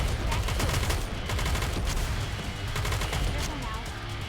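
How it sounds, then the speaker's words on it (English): Gunfire crackles without pause in the game Nikke: a dense, steady stream of rapid shots rattles close and loud throughout, with battle noise layered underneath. "Commence firing."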